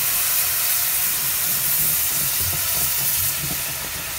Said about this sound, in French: Je vais déglacer un peu avec du bouillon de légumes